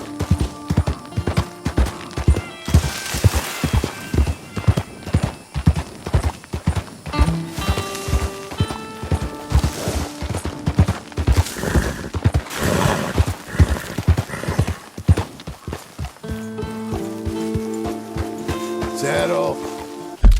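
Steady clip-clop of horse hooves trotting at a brisk rhythm in Red Dead Redemption, up close, with occasional snorts and a whinny, plus light background music and a voice.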